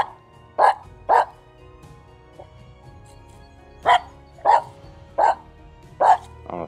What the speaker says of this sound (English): You just go there to bark because there was a squirrel there once.